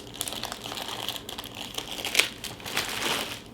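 A plastic bag holding dog supplies for a conservation detection dog handler is crinkled and handled up close, with steady rustling and a few sharper crackles throughout.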